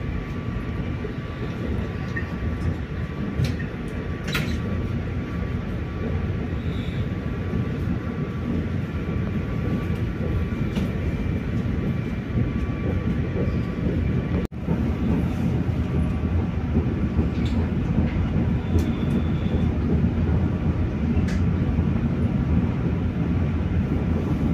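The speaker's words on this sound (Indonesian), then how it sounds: "kereta api Blambangan Express baru melintas stasiun Ledok Kombo" The Blambangan Express train rumbles steadily along the rails in Java, Indonesia, a continuous low roar with faint clanks, heard from close by for the whole stretch.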